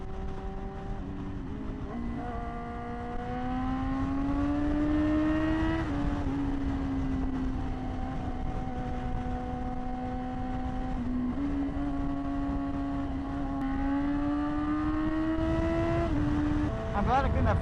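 BMW S1000 sport bike ridden on the street, its engine droning steadily with rising pitch through the gears and brief dips at each shift, heard alongside wind noise.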